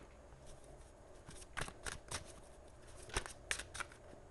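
Tarot cards flipped and laid down one after another, a string of crisp, close snapping flicks with short papery swishes between them over a quiet room.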